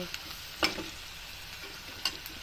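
Green chillies, cumin and mustard seeds sizzling in hot oil for rava upma, a soft steady fry with a couple of sharp crackling spits, no one talking.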